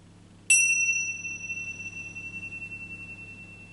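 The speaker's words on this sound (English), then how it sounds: "I will ring the bell to start, and I'll ring the bells to end." A single bell struck once to open a mindfulness session rings out clearly, its bright tone slowly fading with a gentle pulsing shimmer over several seconds in a quiet room.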